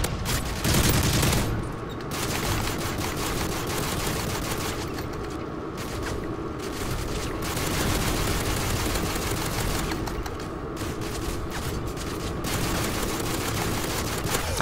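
Sustained gunfire in Call of Duty Modern Warfare 3 on the Village map, a dense, unbroken barrage of shots and bursts rolling on loudly throughout with little let-up.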